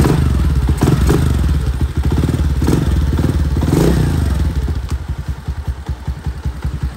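A Honda CD motorcycle with a 100cc engine runs loud and close, with a rapid thumping exhaust pulse that stays steady, then turns choppier and more uneven toward the end. No one talks over it.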